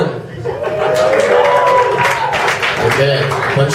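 A comedy club audience at a stand-up show applauds and cheers to vote for a punchline, a mix of clapping, whoops and chuckles with a voice talking over the crowd noise.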